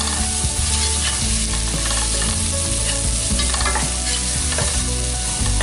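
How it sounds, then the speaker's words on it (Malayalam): Capsicum and onion frying together in a pan for chilli kappa, a dense continuous sizzle with frequent spatula scrapes and knocks as they are stirred, close and loud with no voices. "ക്യാപ്സിക്കം കൂടി ആഡ് ചെയ്ത് കൊടുത്ത് നമുക്കിത് നന്നായിട്ട് ഇളക്കി കൊടുക്കാം"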